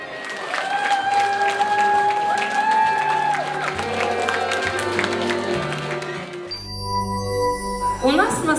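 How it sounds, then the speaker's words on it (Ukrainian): Wedding guests applauding at a reception, a steady crowd clapping under music with sustained tones, then clinking and chiming sounds and livelier music toward the end. "Під ваші оплески, шановні гості."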